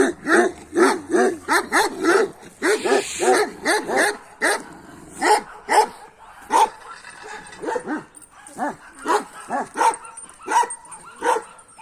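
Kangal Anatolian shepherd dogs barking loudly and repeatedly nearby, a rapid run of deep barks mixed with yips and a whimper, with no talk heard.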